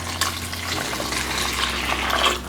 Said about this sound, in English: Now we're gonna add 560 grams of warm water.